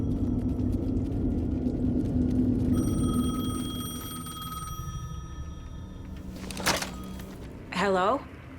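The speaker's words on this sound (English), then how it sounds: "The payphone was ringing." Payphone in the video game Alan Wake 2 ringing with a steady electronic bell tone over a low rumble, followed by a clunk and then a short warbling sound near the end.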